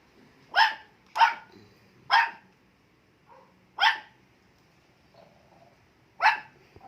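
Guard dogs give five sharp, separate barks at uneven intervals, fairly close, with quiet pauses between them.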